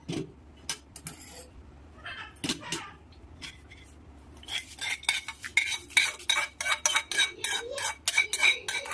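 Tempering being stirred into curd rice with a spoon against the bowl, irregular metallic scrapes and clinks that grow busier and more rhythmic toward the end, close and with no talk.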